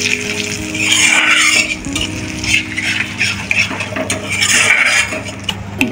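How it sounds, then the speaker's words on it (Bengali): Dried chillies and asafoetida sizzle in hot oil in a pan as a tempering, a continuous bright frying hiss with occasional stirring scrapes, close and loud. "এবার ফোড়নটা ভালো করে একটু ভেজে নিই।"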